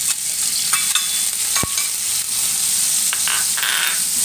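Loud, steady sizzle of coarsely pounded garlic and chili frying in hot oil, with occasional clinks and scrapes of a utensil stirring in the pan.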